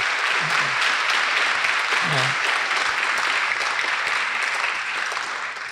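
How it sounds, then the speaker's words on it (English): A luncheon crowd at an honors college anniversary gives a steady round of applause, thick continuous clapping with a couple of brief voices rising through it. "So let's give them a round of applause, ladies and gentlemen."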